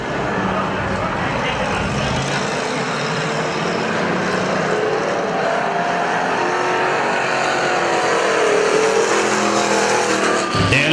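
Race cars roar around the Perris Auto Speedway dirt oval during a destruction-night heat, a dense continuous engine drone with tire squeal rising slightly toward the end, under a public-address announcer's voice.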